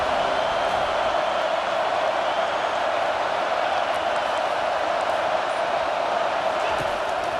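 A home stadium crowd in the video game College Football 25 roars steadily and loudly throughout, a dense wash of noise on a third-down play with no pauses or breaks.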